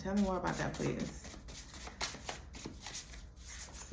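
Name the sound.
playing cards being shuffled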